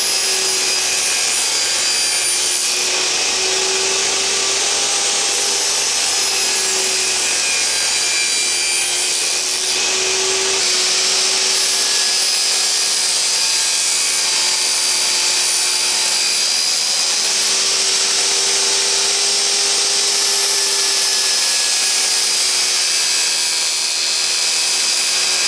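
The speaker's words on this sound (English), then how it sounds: "I'm just going to do the first miter cut on here" A saw makes a miter cut in wood for a small box, giving a loud, continuous high-pitched whine and rasp that holds steady throughout, with no talking.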